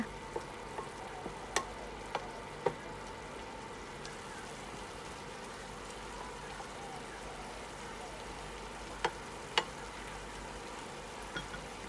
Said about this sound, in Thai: คนให้กุนเชียงโดนน้ำให้ทั่วถึงนะคะ